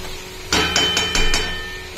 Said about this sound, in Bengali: এই যে চিকেনটাকে ঢেলে দিলাম, এ হালকা সব ভেজে রেখেছি বাটারে